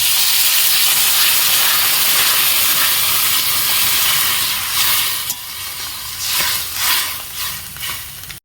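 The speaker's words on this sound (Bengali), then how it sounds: "আমার মশলা কষানো হয়ে গেছে, এবার আমি জল দিয়ে দেবো।" Water poured into a hot pan of fried spices for a small-fish curry with taro greens, giving a loud, steady hiss and sizzle that dies down into bubbling with occasional stirring, no voices.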